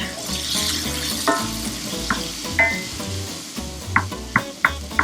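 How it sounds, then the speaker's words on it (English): Peppers and onions sizzle steadily in a pan over medium heat, with a few sharp clacks of a utensil stirring near the end, with no voices. "Let's get those peppers and onions in there. Go sauteing. We're doing this over medium heat."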